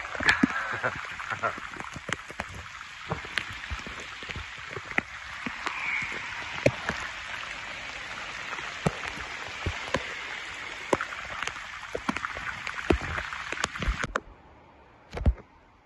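Steady rain patters and drips with scattered sharp drops, while frogs croak throughout and a voice speaks briefly.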